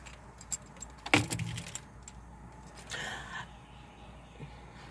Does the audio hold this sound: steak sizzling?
no